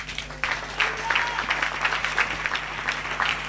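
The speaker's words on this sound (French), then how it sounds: "Est-ce qu'on peut l'acclamer?" A church congregation at a Sunday service breaks into applause, many hands clapping in a dense, moderately loud burst that swells after a brief start and holds steady.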